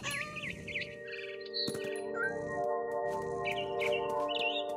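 Birds chirping in the video game What Remains of Edith Finch, with repeated bright tweets and short calls over a steady tonal game ambience and a few sharp clicks.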